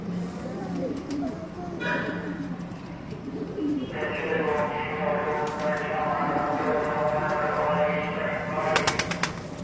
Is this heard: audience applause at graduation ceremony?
no